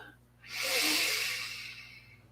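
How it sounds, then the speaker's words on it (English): A single slow, deep yogic breath drawn through both nostrils makes a soft airy hiss that swells, holds and fades over about two seconds, close and alone. "we're going to inhale and exhale out both nostrils. Again, slow, deep, yogic breathing, full breath, full belly breath"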